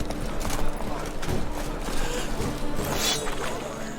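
Geralt's horse Roach clip-clops along in The Witcher 3, a steady run of hoofbeats close by with clanking gear and faint game sounds mixed in.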